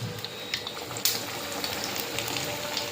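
Raw plantain bajji fritters frying in hot oil, a dense, continuous bubbling sizzle heard up close with scattered louder pops and crackles, no voices.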